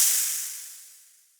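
A snake's hiss, one short, breathy burst that starts strong and fades away steadily over about a second and a half, heard alone.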